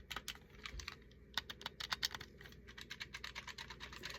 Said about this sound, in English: Yeah, buttons are equally more clicky on this.